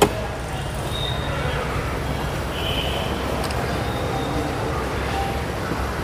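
A Toyota Noah with a 2000cc engine idling, giving a steady, low, even rumble that runs unbroken throughout at moderate level with no one talking.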